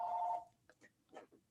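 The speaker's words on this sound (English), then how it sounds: "my phone's ringing here" A telephone ringing in a room during a Toastmasters talk, one brief steady electronic ring tone at the start, then a few faint speech-like sounds.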